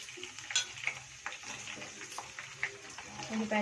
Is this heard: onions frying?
yes